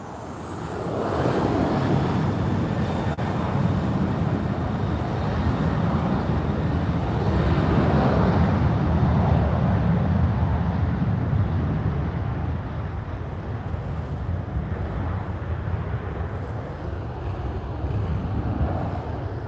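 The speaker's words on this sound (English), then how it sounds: "Boeing's engine sound was super loud" A Boeing jet at Lisbon Airport roars loud and continuous, a broad rushing engine noise that swells and holds before easing slightly as the aircraft moves on.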